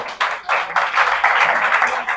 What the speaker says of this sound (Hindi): तनी ताली बजा दो सब इनके जगह पे हो